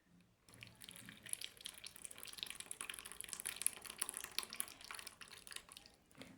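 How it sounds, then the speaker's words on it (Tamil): Melted orange peel soap base poured into a mould, a steady close trickle and splash of liquid that starts abruptly, runs for several seconds and then stops. "நம்ம காய்ச்சின சோப் பேஸை வந்துட்டு எடுத்து லிக்விடை ஊற்றுறோம்"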